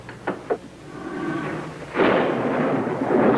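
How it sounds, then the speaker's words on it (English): A couple of sharp cracks give way to a long, rolling rumble of thunder that swells and lingers, fairly loud. "Like an electrical storm moving in"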